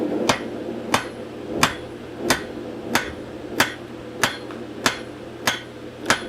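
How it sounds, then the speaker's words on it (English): Hot steel being forged for tongs is struck with a hammer on an anvil, ten sharp ringing blows at an even, unhurried rhythm, clear and close over a steady low background hum. "it'll take the metal down much quicker than just beating it on the flat of the anvil"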